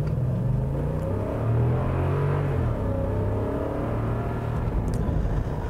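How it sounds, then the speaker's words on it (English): A 2018 Toyota Land Cruiser with permanent four-wheel drive accelerating toward high revs, a loud continuous engine rumble and whir that swells and holds close by, with no talking. "the engine does get a little bit noisier when you start pushing it into the high revs"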